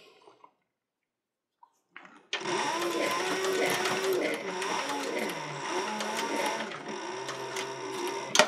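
A sewing machine stitches a leather bandolier strap with a fast, even mechanical whir and clatter. It begins after a couple of seconds of near silence and runs steadily close up, and a voice speaks over it.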